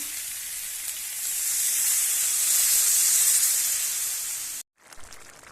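Spiced masala for a tiger prawn curry, with cumin and coriander powder added, hisses loudly as water is poured into the hot pan, a steady bright sizzle swelling and then cutting off abruptly near the end.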